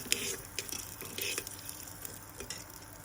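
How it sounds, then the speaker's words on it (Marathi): Lentils being sautéed in a pan, a faint sizzle with light, irregular stirring scrapes and soft clinks, quiet and close, no voices. "डाळ टाकल्यानंतर मी त्याला पुन्हा परतून घेणार आहे डाळीला."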